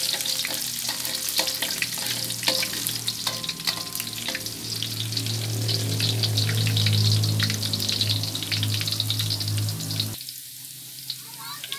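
Shallots fry in an oily pan with a dense, steady crackling sizzle close by, and a few clinks of a utensil early on. The sizzle swells midway, then drops abruptly near the end.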